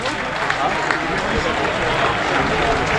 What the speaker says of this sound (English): I think the applause there was for the attendance being announced